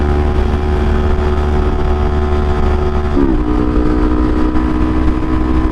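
A 2024 Kawasaki Ninja 500 motorcycle accelerates hard from 0 to 60, its loud, continuous engine drone rising in pitch until a quick gear-shift dip, with wind rush filling the background.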